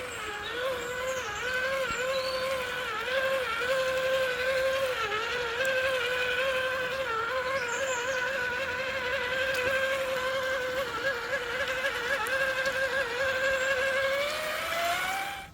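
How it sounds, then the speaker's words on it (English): A Traxxas TRX4 Defender RC crawler on mud tyres gives off a high, steady gearbox whine as it drives, with the pitch wavering and then rising near the end, close and continuous with no talk. "that new gearbox has made literally no difference to the sound of it. It is still a proper whiner"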